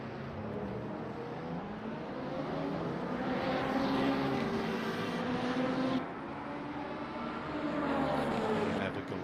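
Race car engines in the sim racing game Le Mans Ultimate during an 8 Hours of Bahrain event, a continuous droning engine roar with rising and falling pitch as cars accelerate and pass, at moderate loudness.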